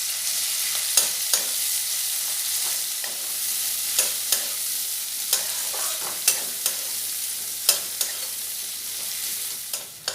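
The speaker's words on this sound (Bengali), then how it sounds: "এবার ওতে দিয়ে দেব কুচনো পেঁয়াজ আর কয়েকটা চেরা কাঁচা লঙ্কা দিয়ে পেঁয়াজটা একটু নাড়াচাড়া করে নেব।" Chopped onion and slit green chillies fry in a pan with a steady, bright sizzle, while a utensil taps and scrapes at irregular intervals as it stirs them, close and alone.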